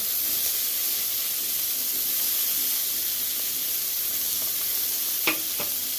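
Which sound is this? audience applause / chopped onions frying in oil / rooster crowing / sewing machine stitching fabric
chopped onions frying in oil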